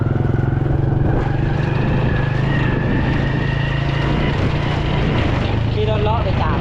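A motorbike rides along a rural country road near Sam Tai in Laos, its engine droning steadily and close throughout with a constant low hum, while a voice talks over it.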